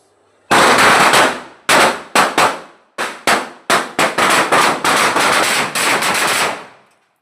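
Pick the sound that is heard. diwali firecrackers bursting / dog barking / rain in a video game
diwali firecrackers bursting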